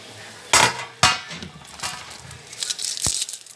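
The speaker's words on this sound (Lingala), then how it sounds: "Siko o matungulu nazokata." Kitchen knife chopping onions for a spinach, lardon and courgette dish, with four or five sharp, separate cuts on a board spaced unevenly between quieter handling noise.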